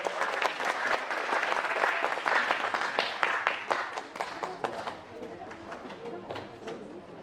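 An audience at a literature and culture award ceremony bursts into loud, sustained applause as a guest is welcomed to the stage, the dense clapping slowly thinning out, with some voices in the crowd.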